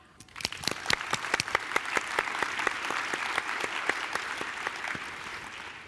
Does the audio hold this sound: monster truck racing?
no